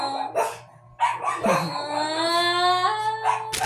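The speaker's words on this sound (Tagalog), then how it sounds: "Ayan po yung aso namin, oh." A household dog lets out a long, close howl that rises and holds with a whining, singing tone, broken by short yips and barks, loud and near.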